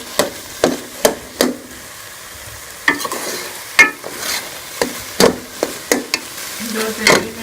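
Grated carrots for gajar halwa cook in a pan while a spoon stirs them, giving a run of sharp, close scraping and knocking strokes over a low sizzle, loud and rhythmic, with no talking.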